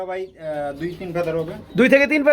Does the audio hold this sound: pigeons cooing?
yes